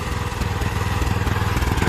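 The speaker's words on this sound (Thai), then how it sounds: "เครื่องยนต์ใช้งานได้ปกติ" A Mitsubishi 7 hp four-stroke petrol engine on a tracked dumper with a manual tipping bed runs close up, chugging in a steady, rapid pulsing rhythm at even loudness.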